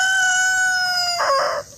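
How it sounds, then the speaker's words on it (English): A rooster crows once on an Indiana farm, a long drawn-out call close by that ends in a short burst of clucking from hand-fed chickens, no talk. "These chickens are hand-fed."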